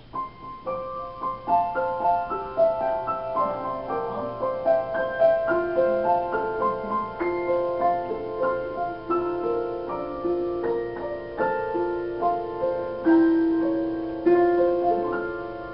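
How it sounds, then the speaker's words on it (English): A wind-up music box shaped like a grand piano plinks a bright tinkling melody alone, its metallic notes ringing and overlapping at a steady lilting pace. "here's a music box shaped like a grand piano"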